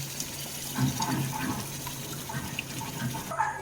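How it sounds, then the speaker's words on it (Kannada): Water from a rinsed jar splashes and pours steadily into chicken sambar, a continuous running-liquid rush close by with some clinking underneath. "ಈಗ ಜಾರ್ ತೊಳ್ಕೊಂಡು ನೀರು ಹಾಕೋಣ"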